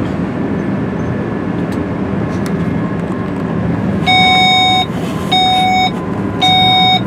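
A train at 125 km/h, heard from inside the driver's cab, rumbles steadily and evenly, then three bursts of a loud multi-tone beeping signal sound over the running noise.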